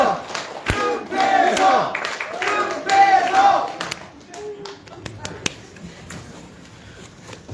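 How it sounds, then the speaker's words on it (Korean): Crowd at a party founding convention cheering and chanting in rhythmic bursts with clapping, then fading into scattered claps and thumps as a voice speaks over a loudspeaker. "박수와 연호 부탁드립니다"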